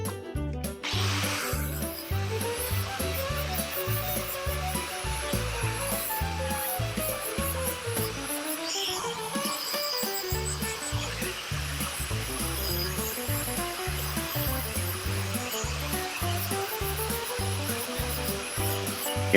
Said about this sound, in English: I go ahead and I'll put a nice edge on it I'll start with the flat disc right here